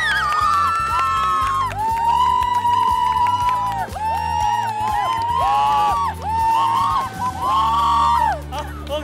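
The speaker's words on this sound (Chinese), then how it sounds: "给自己一个欢呼吧" A prize-winning children's team from a Bible-verse recitation contest cheers and whoops together. The shrill massed voices stay loud and continuous throughout, with a steady rhythmic backing underneath.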